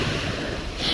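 Sea waves wash steadily onto the shore at the seaside, a continuous near rush of surf with some wind buffeting the microphone and no talking.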